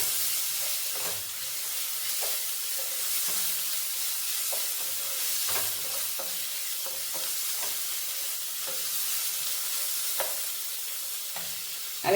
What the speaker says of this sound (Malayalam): ഈ ഇഞ്ചിയുടെയും വെളുത്തുള്ളിയുടെയും ആ പച്ച മണം ഒന്ന് മാറുന്നിടം വരെ ജസ്റ്റ് നമുക്കിങ്ങനെ ഒന്ന് ഇളക്കി കൊടുക്കാം.